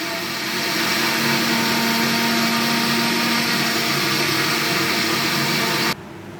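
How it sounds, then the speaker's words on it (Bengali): A kitchen blender whirs loudly and steadily, blending dragon fruit into juice, its motor holding one even roar for about six seconds before cutting off abruptly. "ভালো করে ব্লেন্ডার করবো"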